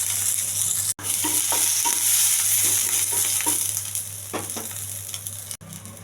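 Cumin seeds and curry leaves fry in a little hot oil with a loud, continuous hiss. Occasional stirring taps sound underneath, and there are two brief cutouts partway through.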